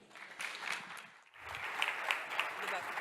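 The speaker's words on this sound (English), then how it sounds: "please give a big round of applause for our next keynote speaker" An audience at a data and AI conference applauds a keynote speaker, a steady wash of clapping that dips briefly midway and then swells again, heard moderately close with no talking over it.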